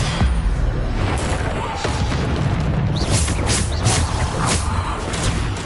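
Repeated Depulso spell casts in the video game Hogwarts Legacy, a continuous loud wash of booms, thuds and whooshing impacts amid busy combat noise.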